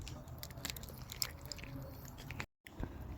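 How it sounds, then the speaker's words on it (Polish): A first bite into a very spicy kebab loaded with salads and slaws, with soft close chewing and squishy biting noises running for a few seconds before a brief silent gap. "Wszystkie sałaty, surówki i pierwszy gryz."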